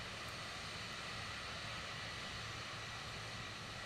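A steady, even airplane engine drone holds as the aircraft taxis toward the runway in Microsoft Flight Simulator 2024, with no change in pitch or level throughout.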